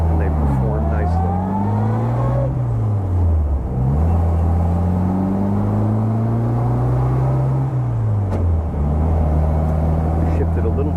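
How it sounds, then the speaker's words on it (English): A 1960 Bugeye Sprite with a smooth-case transmission drives along with its engine droning close by, the revs climbing, dropping sharply at each gear change and climbing again as it shifts up into third; someone talks over it. "Shifted a little too fast there into third."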